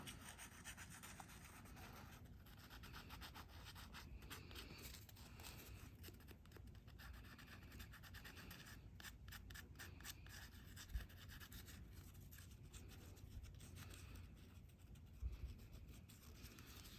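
A painted automaton head being hand sanded, soft continuous rubbing and scratching strokes, quiet and close, with no voices.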